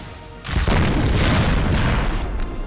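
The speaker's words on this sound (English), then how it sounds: "That was like a nice 6-pounder there." A 6-pounder cannon fires in a Napoleonic-era land battle in a strategy game, a single loud booming blast with a sharp onset that lingers as a rumbling roar, heard alone without speech.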